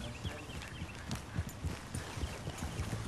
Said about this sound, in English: Mount up then, Morgan.